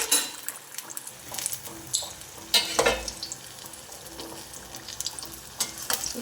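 Chili bajji deep-frying in hot oil, a continuous bubbling sizzle with occasional utensil clinks and a louder splash of stirring near the middle, close and moderately loud, no one talking.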